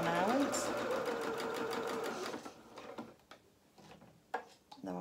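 A sewing machine runs a seam on a dress bodice band, a loud rapid stitching burst at close range, then stops, followed by a few clicks and handling sounds.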